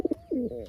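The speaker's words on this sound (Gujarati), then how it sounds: "આપણે કબૂતર પકડ્યું છે" A captured pigeon gives two quick soft notes followed by a short, throaty coo, heard close up and alone.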